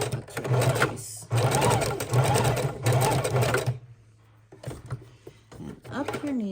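A sewing machine stitches miniature junk journal pages with rickrack trim, a steady fast rattling hum in long bursts with a short pause, then a few lighter clicks as the needle is raised and the page turned.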